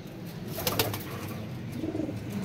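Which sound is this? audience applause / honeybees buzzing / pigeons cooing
pigeons cooing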